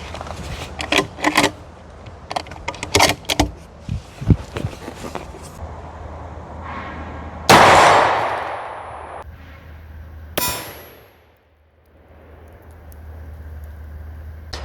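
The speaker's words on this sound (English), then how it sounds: "The muzzle blast blew the camera off the table" A single high-velocity 180 grain rifle shot fired at armor plates rings out as a sudden, very loud blast with a long decaying roar, a second sharp crack follows about three seconds later, and scattered clanks and knocks come before.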